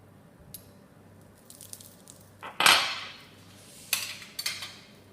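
Lemon juice, olive oil and parsley stirred together in a bowl with a utensil for a spiced rice salmon stuffing, giving a few scattered clinks and wet scraping knocks, one louder clatter midway, against quiet background.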